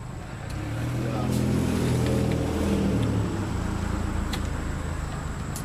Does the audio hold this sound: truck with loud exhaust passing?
yes